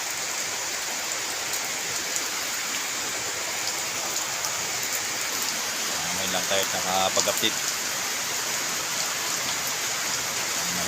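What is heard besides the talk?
heavy rain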